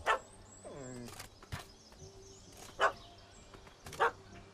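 A dog barks at a cat up a tree in The Witcher 3, a few sharp yelps and barks spread across the moment amid soft ambient game background, with a short whine early on.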